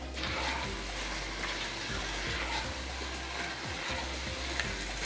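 Shepherd's pie mixture with chopped parsley sautés in an Instant Pot, a steady close sizzle and bubbling with soft stirring scrapes, alone without talk.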